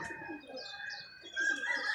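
Rooftop pigeons kept for a pigeon-flying hobby coo softly and steadily, with a few chirps and light wing flutters, growing somewhat louder near the end.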